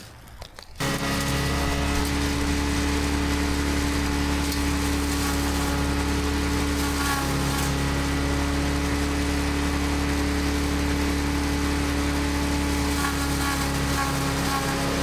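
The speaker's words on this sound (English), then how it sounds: "This is my big splitter, chipper, grinder" Portland chipper shredder engine running steadily after a brief quieter moment at the start, a loud close droning hum that holds an even pitch throughout without talk.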